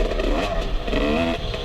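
Two-stroke dirt bike engine revving steadily on a trail, loud and close, with a continuous buzzing drone and slight throttle swells throughout.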